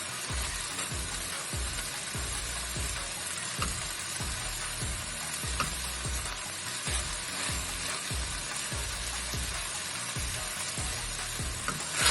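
Vegetables for Hakka noodles stir-fry in a hot pan with a steady, loud sizzle, broken by a regular rhythm of stirring and tossing scrapes throughout.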